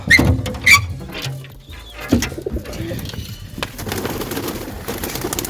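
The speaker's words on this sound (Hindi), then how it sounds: "ये जी भी सारे परिंदे बाहर आ रहे हैं।" Pet pigeons or doves leave their opened cage in bright sun, with close soft cooing, some brief chirps and light wing and foot patter over a steady outdoor background.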